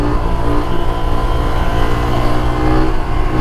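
Motorcycle engine held at steady high revs while the rider holds a wheelie, a loud, close, continuous drone with strong low rumble and a slight dip in pitch near the end.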